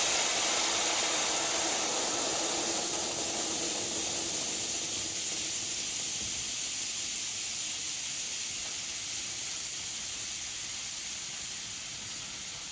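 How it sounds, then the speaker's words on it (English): Residual steam hisses steadily from a Harbor Freight Grant's handheld steamer with the trigger held down, a loud close broadband hiss that slowly fades as the tank pressure drops. "pull the trigger and you'll see the excess steam, the residual steam that comes out"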